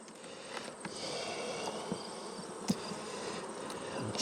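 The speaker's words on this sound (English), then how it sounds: "There's only bees here." Honey bees at an opened beehive give a dense, continuous buzzing hum close by, with occasional clicks and knocks from hive work and no talking.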